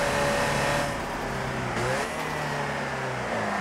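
A Ford Transit van in Forza climbs uphill on the Nürburgring under load, its engine droning loud and steady with a pitch that rises and falls as the wheels spin on the uneven surface.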